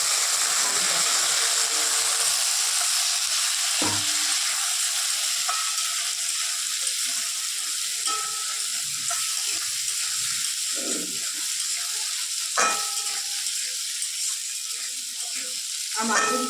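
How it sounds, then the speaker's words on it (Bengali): Potatoes frying in a pan give a steady, even sizzle throughout, with a few brief clinks and scrapes of stirring, while a voice speaks faintly in the background. "আলুটা একটু ভাজা ভাজা হবে তারপর।"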